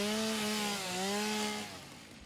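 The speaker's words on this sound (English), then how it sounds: "Chainsaw." A chainsaw whines steadily in the Satisfactory video game. The engine tone dips and rises slightly before tailing off, loud and close with no talk over it.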